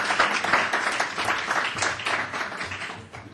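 Applause from a debate audience gives a short burst of brisk, close clapping that fades slightly toward the end.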